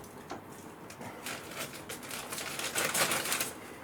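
Aggregate trickles from a bag onto model railway scenery as a fine pattering, rattling scatter that builds and thins, close and moderately quiet, with no talk.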